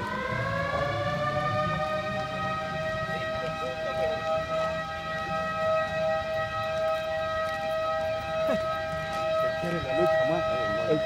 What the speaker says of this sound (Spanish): la última vez que esa sirena sonó aquí fue cuando trajeron a Don Pepe